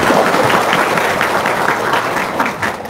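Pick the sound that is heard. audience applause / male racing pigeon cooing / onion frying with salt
audience applause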